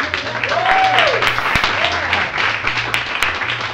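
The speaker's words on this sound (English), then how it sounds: "Let's give them a round of applause." A comedy-show audience at an improv performance in St. Pete breaks into steady, dense applause for three finalists, loud and sustained throughout, with a few voices calling out over the clapping.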